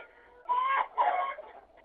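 Chickens among hens cluck in two close, loud bursts of throaty clucking with a short pause between them, then fade out.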